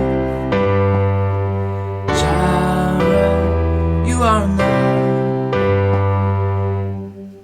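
Sustained keyboard chords change every second or so in a steady pattern, with a voice singing a short line over them.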